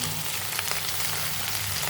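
Okra frying in hot oil with tomatoes for a simple bendakaya curry, giving a steady, close, crackling sizzle that holds even and unbroken throughout, with no talking.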